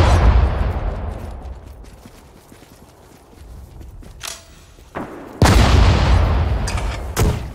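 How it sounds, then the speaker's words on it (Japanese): Heavy artillery booms and gunfire in the war strategy game Sudden Strike 4 during the battle of Singapore: a loud blast at the start decaying into rumble, then sharp bursts of fire and a big explosion near the end. "目標に発砲せよ。"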